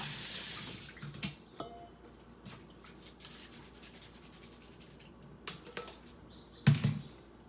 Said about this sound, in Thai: ใช้น้ำเย็นล้างด้วยน้ำเย็นนะคะ